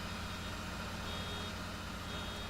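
Vehicle reversing beeps in the farming game Farming Simulator 19 on the Glantal map, a steady repeating tone over a constant low engine idle, moderately quiet and without talk.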